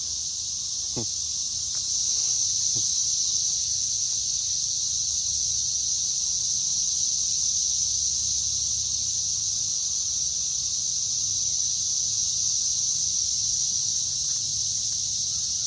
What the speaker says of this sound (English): that's them cicadas a hollering